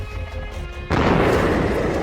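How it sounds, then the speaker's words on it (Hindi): A sudden loud boom from an air strike on Tehran cuts through a quiet background and leaves a sustained, rumbling roar. "तेहरान की सुबह एक बार फिर धमाके की आवाज से कांप उठी"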